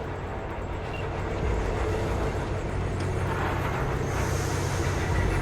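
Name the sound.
train moving in Cyberpunk 2077 video game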